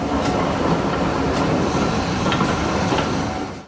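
A train runs along a restored heritage railway line, producing a loud, steady rumble with a rhythmic clickety-clack over the rails and some hiss, passing close by without voices.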